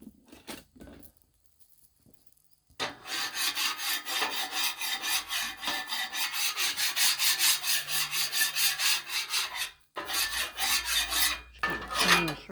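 A metal scraper rasps across a hot griddle cooking vegetables in quick, rhythmic back-and-forth strokes, close and loud, after a brief quiet start and with a short pause near the end.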